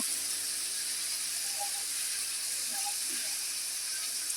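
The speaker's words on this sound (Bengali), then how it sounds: "আমি আলু আর বেগুনটা ভেজে নিতেছি" Potatoes and eggplant frying in leftover fish oil in a pan, a steady hissing sizzle throughout, close and even, with a few faint clinks, no talking.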